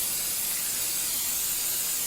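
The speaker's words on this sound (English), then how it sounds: "pack them on a baking paper and spray some oil on top." Oil spray hisses steadily over breadcrumb-coated eggplant slices laid on baking paper, one continuous fine mist held up close.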